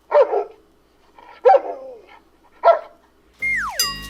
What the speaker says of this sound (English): Alexa, make a dog barking sound.